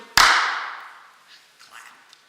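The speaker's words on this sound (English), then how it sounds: "Clap." A single sharp hand clap during a Hindu puja ritual, loud and close, with a bright ringing decay that fades over about a second into a quiet room, followed by faint soft sounds.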